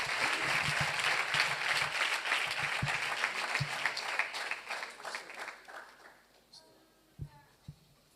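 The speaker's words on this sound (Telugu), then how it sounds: "అయ్యగారికి కృతజ్ఞతలు, వందనాలు తెలియజేస్తూ చప్పట్లు కొడదాం" Audience applause at a church gathering, a dense burst of clapping with voices over it that thins out and fades to a few scattered claps near the end.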